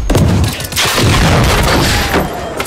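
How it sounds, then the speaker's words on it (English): A grenade explodes in the video game Generation Zero, a loud close boom opening a dense stretch of rumbling blasts and rapid gunfire that keeps going under the noise. "Oh, grenade."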